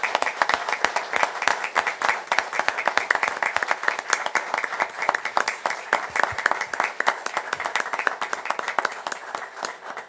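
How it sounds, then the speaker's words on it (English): Loud, sustained applause from a community audience honoring someone's 28 years of keeping families safe in Somerville, rapid overlapping claps close by for about ten seconds, with a few voices faintly underneath. "I think that deserves a round of applause"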